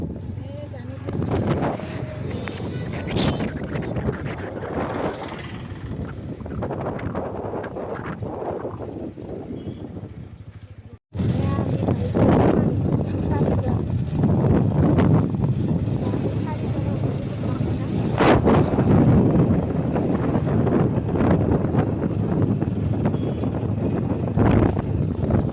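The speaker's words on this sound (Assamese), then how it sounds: "এয়া চাওক তিনিজনে এটা বাইকত গৈ আছোঁ আমি" A motorbike carrying three riders moves along the road, its engine drone almost buried under steady, heavy wind buffeting across the microphone, with a brief cut partway through and voices talking over the ride.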